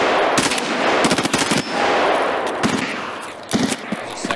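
Bursts of automatic gunfire in the shooter game Escape from Tarkov. Several rapid volleys come loud and close in quick succession, with short gaps between them.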